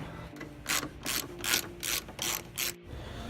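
A ratchet backs out T30 headlight bolts on a Ford Focus ST, giving six evenly spaced bursts of sharp, close clicking over a low background hum.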